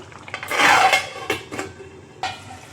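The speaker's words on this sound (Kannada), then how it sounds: "ಅದಕ್ಕೋಸ್ಕರ ಲಿಡ್ ಕ್ಲೋಸ್ ಮಾಡ್ತಿದ್ದೀನಿ" A metal lid clatters onto a cooking pan, with a burst of ringing clanks followed by a few lighter knocks and a final tap, close and fairly loud in a quiet kitchen while egg ghee roast cooks.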